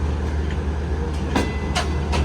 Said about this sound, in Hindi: ट्रेन मूव होना शुरू हो चुकी है कोटरी जंक्शन से